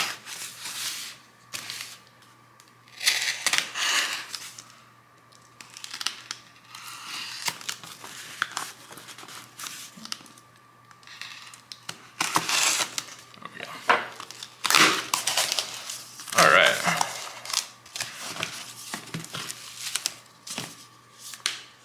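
A cardboard subscription box for an everyday-carry gear club being cut open, with intermittent close crinkling, tearing and scraping of cardboard and packaging in irregular bursts.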